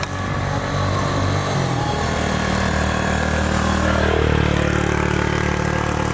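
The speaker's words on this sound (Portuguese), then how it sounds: "agora eu vou mostrar pra vocês o escapamento dela aqui, beleza? Escapamento e o som" Stainless steel sports exhaust on a motorcycle or car idling steadily with a deep rumbling drone, close and loud, slight rise in pitch partway through, with background noise and no talk.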